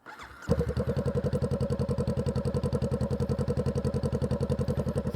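A Honda Rebel 500 twin-cylinder motorcycle fitted with a Shorty GP exhaust cranks briefly and fires up, then settles into a close, loud, steady idle with an even, rapid pulsing beat and no talk over it.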